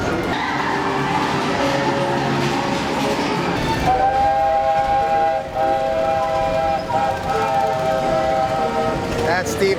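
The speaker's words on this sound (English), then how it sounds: "That steam train, sounds of the Magic Kingdom." A Magic Kingdom steam train rumbles along nearby, and its whistle sounds in a long, steady blast partway through. Crowd chatter and voices carry over the rolling train noise.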